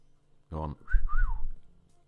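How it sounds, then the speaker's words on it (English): A rising-and-falling two-note wolf whistle sound effect plays in a Carousel slot game, clear and close, just after a short burst of a voice. "Oh, do I get the wolf whistle?"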